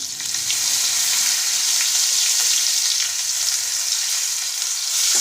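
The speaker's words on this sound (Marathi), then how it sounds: "थोडं फ्राय होऊ द्यावं लागणार त्याला कढीपत्त्याला" Curry leaves, turmeric and asafoetida fry in hot oil for a bitter gourd curry, giving a steady close, bright sizzle that holds evenly for about five seconds with no voices.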